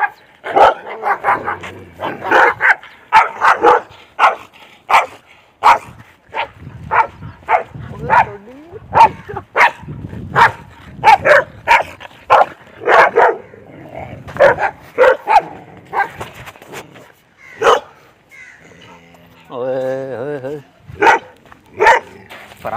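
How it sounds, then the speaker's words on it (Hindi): Several dogs bark repeatedly around a person on a rural path to water crops, sharp barks and yips coming in rapid bursts near the listener, with a brief whine near the end; a voice speaks between the barks. "ये नाज़रीन देख सकते हैं कि कुत्तों ने मुझे घेर लिया था और मैं डर गया था"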